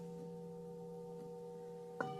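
A soft, sustained metallic Tibetan bell tone rings with steady layered overtones, and a fresh strike rings out near the end.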